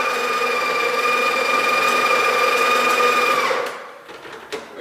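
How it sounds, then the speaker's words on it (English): A Breville coffee grinder grinds beans with a loud, steady, high-pitched whirring hum that runs for several seconds, then cuts off, leaving faint clicks and handling noise. "What I'm going to do is let this grind halfway"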